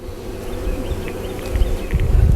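Honey bees buzz steadily in an open Layens hive, a continuous close droning hum with occasional louder passes and some handling bumps.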